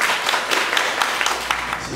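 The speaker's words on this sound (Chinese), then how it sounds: "我们热烈掌声欢迎你们。" Dense, steady applause from an audience at a lecture, a broad wash of many hands clapping together at close range for a couple of seconds.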